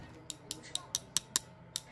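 Scissors cutting through a haul of clothing items, a rapid series of about eight crisp, close snips in under two seconds.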